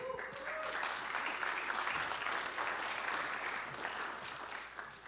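A room audience applauds the musician at a talk event, steady dense clapping sustained throughout at moderate volume, with no voices standing out.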